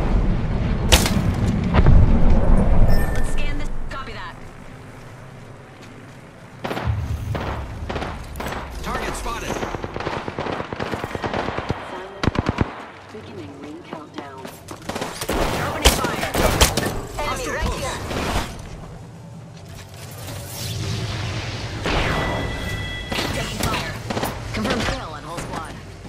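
Gunfire in the Apex Legends video game, dense bursts of automatic weapon shots and impacts, loud and continuous throughout, with game voice lines and player talk in between.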